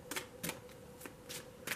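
Tarot and oracle cards are shuffled in short, crisp riffling bursts, about five quick flutters spaced unevenly, close and fairly quiet.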